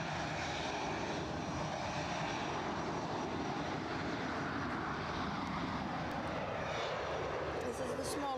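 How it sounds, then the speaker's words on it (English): A KLM passenger jet at Edinburgh Airport gives a loud, steady engine roar that holds for the whole stretch, with a voice talking over it. "So here's our third KLM flight of the show."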